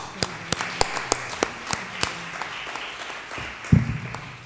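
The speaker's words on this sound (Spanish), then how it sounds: "le vamos a dar un aplauso nuevamente" A small audience at an interreligious gathering on nonviolence gives scattered applause: sparse, distinct hand claps at an uneven rhythm, fairly faint, with a dull thump near the end.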